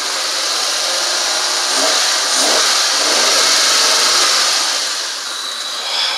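A Honda car engine with a P0141 sensor fault revs up steadily as gas is applied, a loud, continuous broadband roar that swells and eases slightly over several seconds with no talk.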